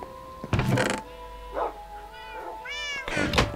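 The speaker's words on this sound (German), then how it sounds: "Ah, wieder zwei Kätzchen." Cats in the Minecraft video game meow several times, a couple of clear calls spaced across a few seconds over soft game background sounds.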